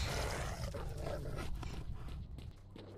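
Mutant dogs growl and snarl in the S.T.A.L.K.E.R.: Shadow of Chernobyl video game, a loud, rough, continuous low rumble that eases near the end, with no talking.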